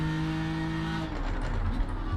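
BMW M4 GT3 race car engine in iRacing, a steady high-revving tone that drops away after about a second into a rougher, lower engine rumble with tyre and road noise, no talking.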